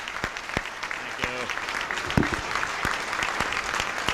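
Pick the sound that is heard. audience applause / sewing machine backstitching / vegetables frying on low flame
audience applause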